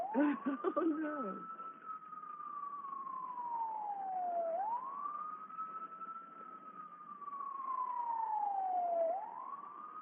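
A siren wails in long, slow rising-and-falling sweeps, steady and fairly loud throughout, with a short burst of busier noise at the very start.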